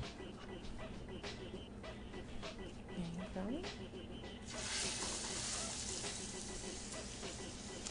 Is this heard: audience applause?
no